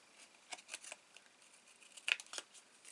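Scissors trimming small green paper bits for a stamped greeting card, several crisp snips and rustles close by, with a louder cut near the end.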